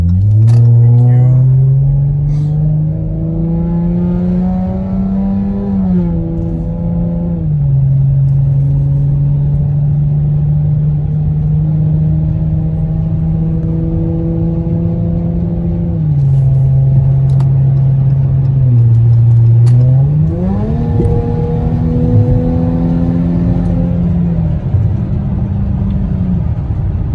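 A 2017 Dodge Charger SXT AWD heard from inside while driving, its engine hum climbing in pitch and dropping back through several gear shifts at a steady, moderate level, with a voice talking now and then.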